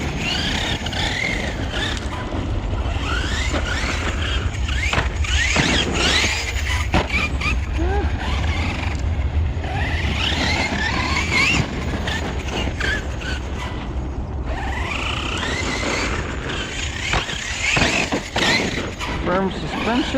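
A Hobao Hyper MTX 1/8 RC monster truck on 6S power drives and lands from jumps, with a steady motor whine, rumbling tires and occasional thumps, while someone talks over it.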